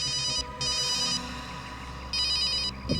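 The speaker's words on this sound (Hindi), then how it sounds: "अभिजीत का फोन है।" A telephone rings in a tense police-drama scene, its bright electronic trill sounding in two clear bursts with a short pause between, loud and close with no voices over it.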